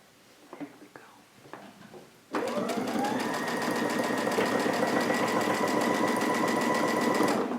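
After a few soft handling taps and a quiet whisper, a sewing machine with a quilt binding foot starts up and runs steadily, binding a placemat with a loud, close, continuous whirring hum.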